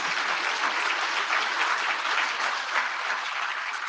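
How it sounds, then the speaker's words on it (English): Steady applause from a large audience at an IETF plenary session, dense continuous clapping at even loudness throughout, with no voices rising above it. "I think you're going to get a lot of applause now"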